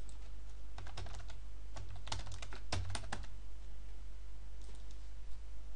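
Typing on a computer keyboard in bursts of rapid clicks and taps, close and crisp, with a low steady hum underneath and then a quieter pause near the end.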